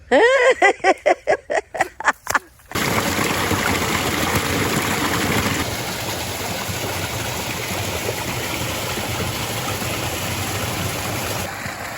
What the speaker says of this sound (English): There's running water here, so not as much ice.